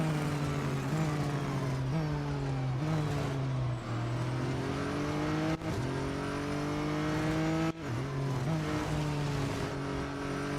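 A McLaren race car in Real Racing 3 driving a lap, its engine droning steadily with rising and falling revs through gear changes, loud and continuous with faint tire noise.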